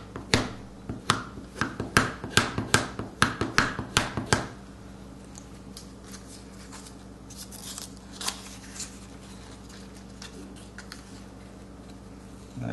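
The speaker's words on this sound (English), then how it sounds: "And then just rub it with a scrubber." Dry scrubbing of a carved stone seal pressed onto paper, a quick run of sharp rasping strokes for about four seconds, then a quiet room with faint light rustles.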